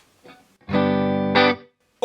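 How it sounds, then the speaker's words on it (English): Electric guitar played through the reverb of a Hamstead Artist 20 RT combo amplifier: a sustained, lightly driven chord rings out, swells as a second chord is struck, then decays into a reverberant tail before a new note starts. "Now it's got a beautiful reverb like I was mentioning earlier."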